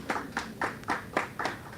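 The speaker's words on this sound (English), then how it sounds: "Give her a round of applause." Scattered, steady clapping from a small audience at a youth talk on unemployment, fairly faint, with about six soft beats in a regular rhythm.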